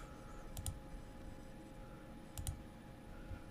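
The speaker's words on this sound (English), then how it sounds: "I click the process button" A computer mouse clicking a process button in database software, two quiet, sharp double clicks about two seconds apart over faint room hum, with no talk.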